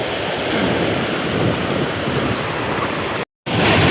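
Plentiful water rushes loudly and continuously outdoors at a rural spot during the rainy season, with wind buffeting the microphone. A broad, roaring wash is broken by a brief dropout near the end.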